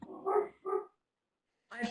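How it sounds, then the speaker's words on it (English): A dog indoors gives two quick barks close by, then a third bark after a short pause, with speech loosely overlapping in the room. "I apologize for my dog barking and interrupting our session."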